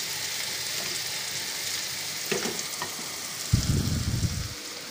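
Bitter melon stir-fries in a pan, a steady sizzle running throughout, with a few scrapes of stirring and a louder burst of frying near the end.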